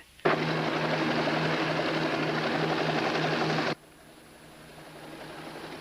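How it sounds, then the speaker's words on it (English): A helicopter roars loudly and steadily nearby with a throbbing low rotor hum, then abruptly drops to a fainter, distant drone. "It's that chopper. He's come back again."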